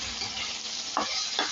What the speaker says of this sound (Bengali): আমার ভিন্ডি ভাজাটাও হয়ে গেছে